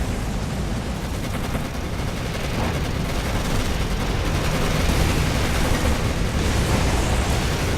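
Tank cannon fire and explosions in the WWII tank game Codename: Panzer Phase One, a dense, loud continuous rumble of blasts and gunfire filling the whole stretch with no talk.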